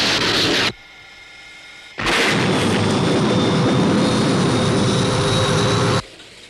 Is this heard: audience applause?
no